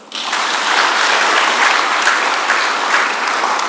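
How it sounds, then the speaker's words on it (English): Audience at a public lecture on technical and vocational education in Africa bursts into applause, a dense, steady wash of many hands clapping that swells quickly and holds loud throughout, with no talking over it. "Can we clap for him?"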